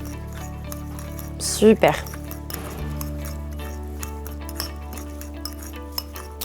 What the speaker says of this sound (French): Puis là, vous mélangez. Moi, j'ai pris une petite fourchette.